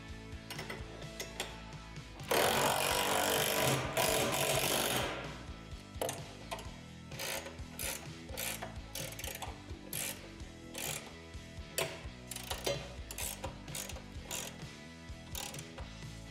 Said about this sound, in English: Now you can tighten the hardware holding the rim and clevis to the housing.